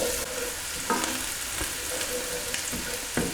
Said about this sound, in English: we're just going to fry these onions for about 4 or 5 minutes